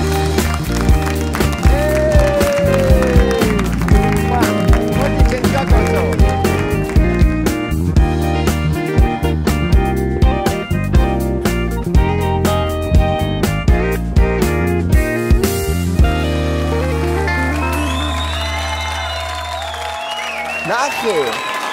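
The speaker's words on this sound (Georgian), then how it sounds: "შეეგებეთ ხურვალი აპლოდისმენტები" A television night-show studio audience applauds and cheers in sustained loud clapping for arriving guests, with music and a host's voice layered over the noise throughout.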